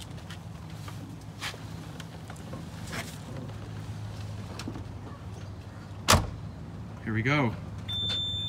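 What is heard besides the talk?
Lamborghini engine starting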